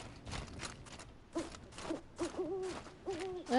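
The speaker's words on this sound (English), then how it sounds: "I love the owl sounds." An owl hoots in the Horizon Zero Dawn Frozen Wilds video game, with a series of soft, repeated hoots over a steady noisy ambient background, clear and moderately close.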